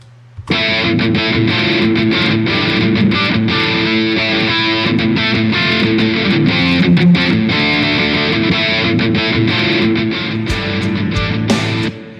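Heavily distorted electric guitar chugs out a rhythm part alone, loud and dense, with sustained crunchy chords throughout before cutting off.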